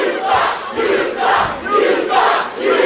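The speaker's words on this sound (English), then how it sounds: "Well, these fans, as you can hear, what they think about Maven." A wrestling arena crowd chants in loud, rhythmic swells about the wrestler Maven at a TNA event, with the voices rising and falling in repeated waves.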